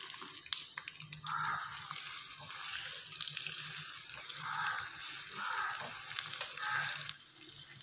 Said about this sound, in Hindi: ऑयल गर्म हो चुका है, मैं इसमें ऐड करूँगी प्याज